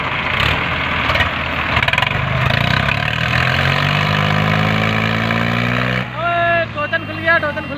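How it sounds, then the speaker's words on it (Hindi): Three tractors, 855, 855 and 555 models, are hitched to loaded trolleys and run together, giving a loud, steady engine drone that shifts in pitch, with a voice briefly heard near the end. "तीनों ट्रैक्टर जुड़ चुके हैं, अभी चल रहा है, स्टार्ट भी हो गया।"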